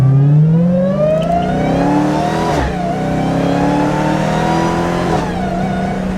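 A Dodge Hellcat Charger fitted with a new intake revs loud and close, its engine note rising and sweeping through smooth pulls without voices.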